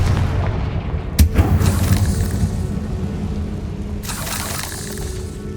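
A Confringo spell explodes in the Hogwarts Legacy video game, a sharp boom with shattering debris followed by rumbling, and a second burst of crackling noise a few seconds later.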